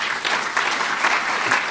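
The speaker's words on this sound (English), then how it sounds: "So if we could get a round of applause for Am." An audience at a talk event claps together in a steady, fairly close burst of applause that carries through the clip without voices over it.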